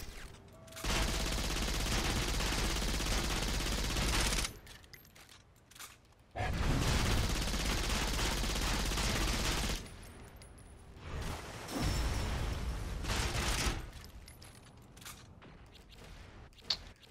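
An SMG fires in the video game Saints Row IV. Long, dense bursts of rapid gunfire come in several stretches, separated by short quieter gaps, with no talk over them.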